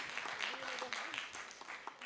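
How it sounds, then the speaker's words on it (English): Applause for a speaker on stage at an ophthalmology conference session, a steady wash of clapping from the audience running through the whole moment with a voice talking over it. "a big round of applause"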